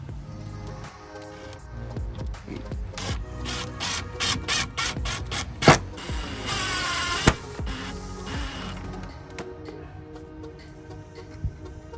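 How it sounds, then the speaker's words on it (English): Screws are driven to mount a switch panel with a meter and USB ports inside a 6x12 cargo trailer, a power driver whirring and ratcheting in close bursts, ending in a sharp clack, then quieter handling. "We're just going to shoot screws in it, and that'll be all mounted up and ready to wire."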